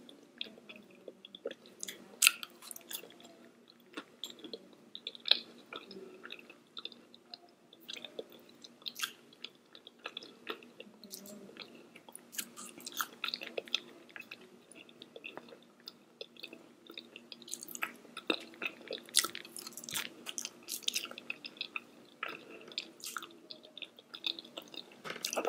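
Someone chews walnuts close up in a quiet room, with steady crunching and wet squishy bites repeating irregularly over about half a minute.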